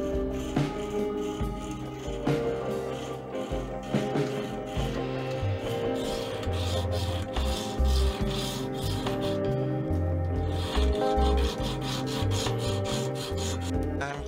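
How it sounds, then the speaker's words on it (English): A hand file rasps repeatedly along the sides of a silver foxtail chain bracelet, steady back-and-forth scraping strokes heard close up with a faint tonal background underneath. "All the sides of the bracelet is then filed to make them more even and square."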